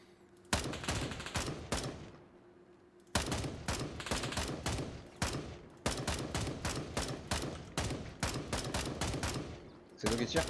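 Gunfire in the video game Gray Zone: Warfare: rapid bursts of close, loud rifle shots in rhythmic volleys, with short pauses between strings of fire and faint voices underneath.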